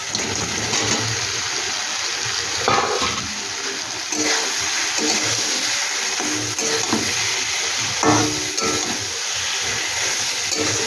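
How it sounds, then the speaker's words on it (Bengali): Green banana pieces dropping into sizzling oil with spices, giving a dense, loud, continuous frying hiss with faint stirring clatter throughout. "এবার আমি দেখো কলাটা দিয়ে দিচ্ছি।"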